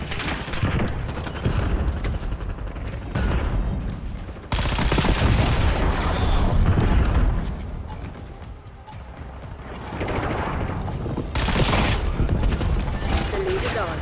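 An impact grenade blast and sustained gunfire fill a loud, dense stretch of Black Ops 7 combat, with bursts of shots and crashes, while voices talk underneath.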